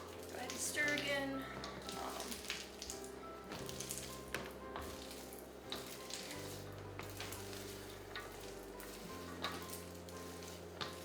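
Peanuts being stirred in hot cooking syrup in a pan, a quiet sizzling bubble under repeated clicks and scrapes of the spoon, close and soft, with a steady low hum beneath.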